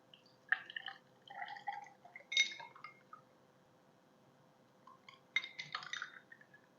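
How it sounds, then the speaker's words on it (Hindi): Thick rabri milk drink is poured into glasses, producing soft intermittent drips and light clinks of glass and spoon in two short clusters separated by a quiet pause. "चलें इसको ग्लासेस में शिफ्ट करते हैं। अब निकालेंगे इसको ग्लासेस में।"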